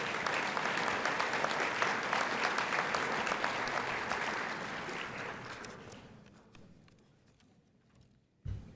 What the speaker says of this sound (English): let's give another warm round of applause to Senator Max Baucus